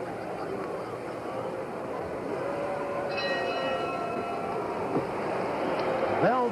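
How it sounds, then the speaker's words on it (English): A ringside boxing bell marks the end of round one in the Muhammad Ali versus Buster Mathis fight, a ringing tone rising over a steady crowd roar while a commentator talks. "Bell for the end of round one."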